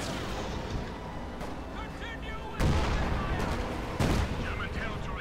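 Gunfire rattles through a Company of Heroes 2 1v1 match between US and OKW forces: dense, continuous volleys with two louder bursts landing partway through, while a commentator talks over the battle.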